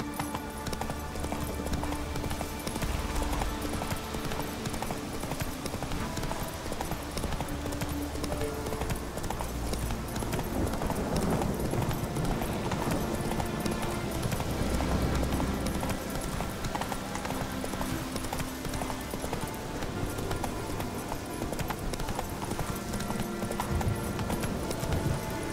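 Roach, a horse in The Witcher 3 video game, gallops steadily with rapid rhythmic hoofbeats throughout, layered over game music and ambience, with a brief whinny.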